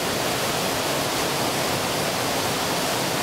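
A waterfall on a remote hillside at night roars as a dense, unbroken wash of rushing water that fills the whole clip, loud and steady with no voices.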